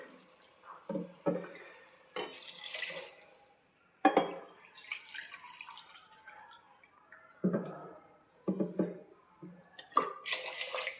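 Water is poured in several short bursts, splashing and trickling into a cooking pot for soya chunk pulao, with quiet gaps between pours.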